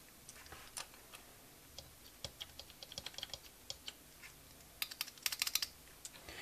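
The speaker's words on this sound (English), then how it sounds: "It actually has a tactile clicky mechanism in addition to the rubber dome." Keys on a Canon TypeStar 4 thermal typewriter, with a tactile clicky mechanism over rubber domes, tap in irregular bursts of crisp, close clicks, quickening into a rapid flurry near the end, with no talk.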